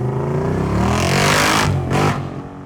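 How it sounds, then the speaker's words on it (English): A Jeep Gladiator with a 600-horsepower LS3-headed V8 conversion revving hard, a loud, close engine roar that climbs and holds before briefly dipping and surging again, with no voices. "So under the hood, we do have a 600 horsepower V8."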